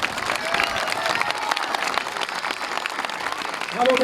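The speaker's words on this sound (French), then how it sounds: "J'aimerais que tout le monde applaudisse très fort Benji" Audience at a juggler's show claps loudly and continuously for a few seconds, with some cheering mixed into the applause and a voice coming in at the end.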